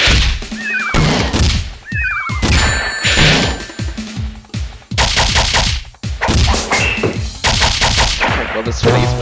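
Bombs explode repeatedly in the Sonic the Fighters arcade fighting game, loud punchy blasts and crashes mixed with dense game sound effects and jingles in a busy, rapid rhythm.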